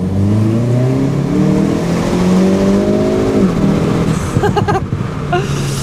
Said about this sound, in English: if I just accelerate out of this corner here